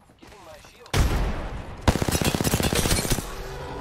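Gunfire in Apex Legends: a heavy blast opens, followed by rapid, loud automatic bursts of closely spaced shots that rattle on for over a second, with a voice briefly heard around them.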